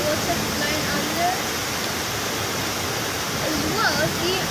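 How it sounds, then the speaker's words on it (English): Storm water flows through a street during stormy weather, a steady broadband rushing that stays fairly loud and even throughout, with no distinct breaks. "Did you see how much water flowing under?"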